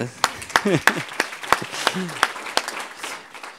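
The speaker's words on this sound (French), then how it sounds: "Oui, vous pouvez l'applaudir." Audience at a regional strategy launch event applauding as a speaker is introduced; scattered, fairly close claps over a few seconds beneath ongoing talk.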